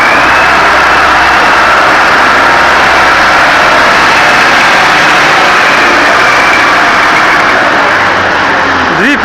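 A TO-30 wheel loader's engine runs loud and steady at close range during wheat loading, a continuous heavy drone with a brief pitch shift near the end.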